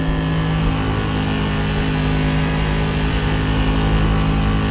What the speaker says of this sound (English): I'm letting off, let the car set, and gassing up out of the corner.